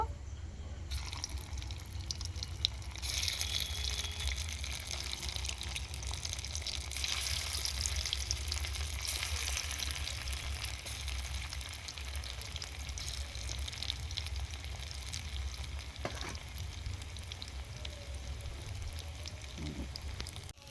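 Soybean dumplings fry in oil with a continuous, even sizzle and bubbling that stays close and moderate for the whole stretch, with occasional faint clicks and no talking.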